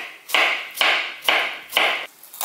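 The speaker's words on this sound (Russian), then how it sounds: "Свежие огурцы нарежем кубиком." Four crisp knife chops dicing fresh cucumbers on a cutting board at a steady, even rhythm, close and fairly loud, each a sharp thud with a short scraping tail.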